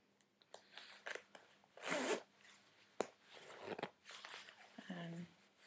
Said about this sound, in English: Probably do up the zipper from outside.